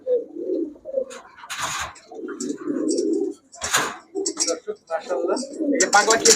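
Male giribaz pigeons at a pigeon seller's shop give low, rolling coos in repeated bouts, with sharper bird calls and clatter breaking in between.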